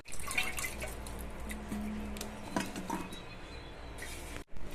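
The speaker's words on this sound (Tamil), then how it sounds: "தண்ணியில் இந்த பிரண்டையை நல்லா அலசிக்கலாம். 2 தண்ணி ஊற்றி நல்லா அலசி" Pirandai (veldt grape) stems being rinsed in a vessel of water, with soft drips and small splashes throughout and a brief handling clatter near the end.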